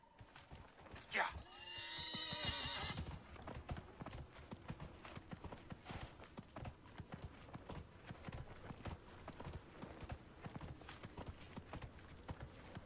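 Horse in Dragon Age: Inquisition gallops with steady rapid hoofbeats through the whole stretch, with a loud neigh early on near the start.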